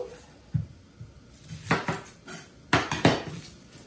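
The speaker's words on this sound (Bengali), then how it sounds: "এখন আমি পেঁয়াজটা কেটে নিচ্ছি।" Onion being cut with a knife on a board while preparing bottle gourd leaf bhorta, heard as a few sharp, close chopping knocks spaced irregularly, with louder clustered strokes toward the end and no talk.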